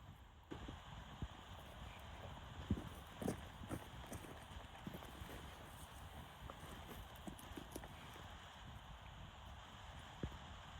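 Hooves clip-clop steadily on hard ground, fairly close, with a breezy outdoor background and a few louder stamps.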